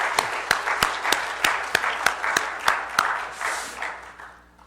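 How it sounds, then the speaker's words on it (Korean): A church congregation applauds its choir after a difficult anthem at a spring revival service: a steady, evenly spaced series of sharp claps that thins out and fades over the final second. "우리 찬양대 다시 한번 격려 박수 감사드립니다."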